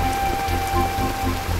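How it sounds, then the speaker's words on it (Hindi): Steady rain pours down outdoors, a dense continuous hiss of drops with a low hum running underneath, no voices over it. "बारिश हो रही है"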